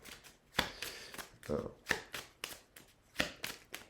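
Tarot cards are drawn and shuffled close by in a quick run of crisp papery riffles and taps, with a soft voice speaking between them.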